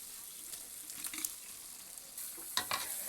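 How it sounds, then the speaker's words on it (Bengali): Fried chicken pieces stirred into biryani masala in a pan, a quiet sizzle punctuated by a few scraping strokes of the spoon, with a louder burst of stirring near the end. "এবার একটু নেড়ে চেড়ে নিচ্ছি।"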